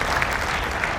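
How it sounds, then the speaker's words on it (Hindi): An audience clapping at a religious consecration festival, a dense, steady burst of many hands heard close and continuous for about a second. "ये तालियां मां भगवती के चरणों तक पहुंच रही है।"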